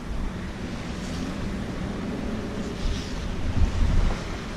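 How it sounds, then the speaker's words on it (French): Wind of about 24 knots roars and buffets across the microphone aboard a sailboat rounding Cap Corse, over rushing sea water, a continuous blustery noise with gusts swelling toward the end. "Et il y a toujours 24 nœuds de vent."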